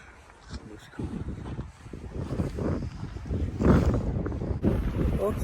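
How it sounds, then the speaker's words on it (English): Strong wind on Acatenango Volcano in Guatemala buffets the microphone in gusting, rumbling waves, growing louder over time with faint voices mixed in. "Very windy."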